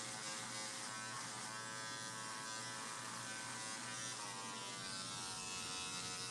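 Electric hair clippers buzz steadily and close up while a barber cuts a fade, a continuous harmonic hum with no talk over it.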